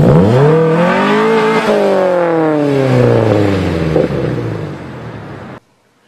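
A manual-transmission car engine is revved to around two to three thousand RPM, then the clutch is dropped for a fast start: a loud, close rising engine roar that climbs and holds before cutting off abruptly.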